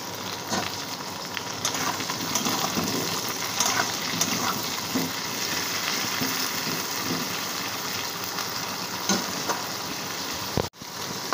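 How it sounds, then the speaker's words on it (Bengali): Potatoes and pointed gourd frying in oil with a little salt, a steady crackling sizzle that runs throughout, with a brief clunk near the end. "ঢাকা দিয়ে রাখবো যাতে ভালো করে ভাজা হয়"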